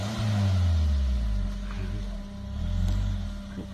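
A Daihatsu Terios off-road SUV engine rumbles low and revs up in two swells, close and steady, with no one speaking.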